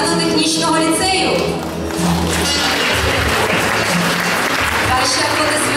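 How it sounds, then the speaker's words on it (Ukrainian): Audience applause at a school's 25th anniversary celebration in a hall, loud sustained clapping from a large crowd filling the whole stretch, with a brief dip midway. "Ваші аплодисменти."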